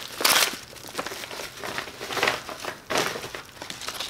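A bubble envelope package being torn open and handled, giving loud, close crinkling and crumpling bursts that come in uneven waves throughout.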